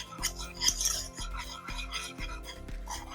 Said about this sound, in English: It's literally just basically creaming together your egg yolks